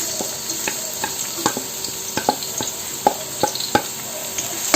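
Garlic sautés in hot oil for butter chicken, giving a steady close sizzle broken by frequent sharp clicks and scrapes of a utensil turning it in the pan, with no voices.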